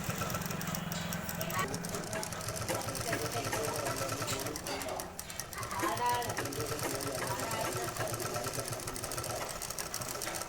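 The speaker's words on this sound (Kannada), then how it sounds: "ಟಾಪ್ ಸೈಡು ಟೆನ್ಷನ್ ಮಾರ್ಜಿನಿಂದ ಸ್ಟಿಚಿಂಗ್ ಮಾಡ್ತಾಯಿದ್ದೀನಿ" Sewing machine stitching along the top side of a shirt, a close, steady mechanical whir with a rapid needle rhythm that runs the whole time beneath continuous talking.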